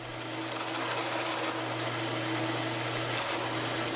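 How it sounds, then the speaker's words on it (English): A drill press countersinking holes in wood, a steady, close motor whine with a constant hum and a bright, dense cutting rasp that holds even for a few seconds. "I like to use a drill press."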